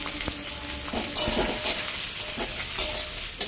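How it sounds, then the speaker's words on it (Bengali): Chopped onions fry in hot oil for a dhaba-style egg tadka, sizzling loudly and continuously while a spatula scrapes and stirs in brief repeated strokes. "এই যে পেঁয়াজ কুচিগুলো দিয়ে দিলাম"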